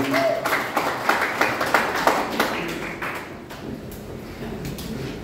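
A church congregation claps for God, a mix of rhythmic and scattered hand claps at close range with faint voices underneath, easing off toward the end.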